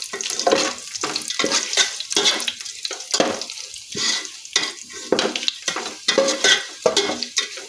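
Whole spices (black pepper, cumin, cinnamon sticks, cardamom and cloves) stirred in hot oil for khichuri, with a steady sizzle broken by repeated scraping strokes in an even rhythm, close and fairly loud, no talking.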